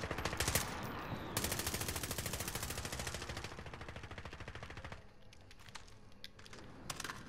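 Rapid automatic gunfire in the video game Call of Duty: Modern Warfare, loud bursts of machine-gun fire with a brief pause, then sporadic shots and crackling continuing more quietly.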